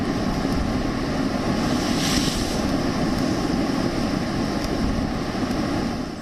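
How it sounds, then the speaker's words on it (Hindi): Storm waves from Cyclone Tauktae surge against the Indian coast, a loud, continuous roar of churning water and buffeting wind with one brief swell of spray near the middle. "ताऊते तूफान से भारतीय तटों पर लहरों का उफान देखिए।"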